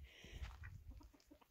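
Chickens clucking on a farm where ducks and geese are also kept, a few short soft clucks and bird calls close by over a low rumble, with no talk.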